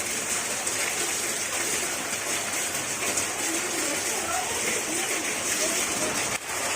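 Heavy downpour in Dhoraji during a thunderstorm, with rooftop runoff pouring down: a steady, dense rush of rain and splashing water close by, continuous throughout, ending with a brief knock.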